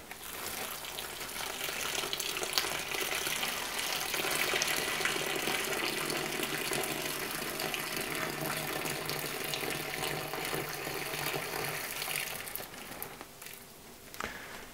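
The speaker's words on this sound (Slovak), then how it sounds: "Môžeme naliať vodu." Water pours steadily into a plastic bag of mushroom-growing substrate, a continuous splashing, gurgling stream close by that runs for many seconds before easing off near the end.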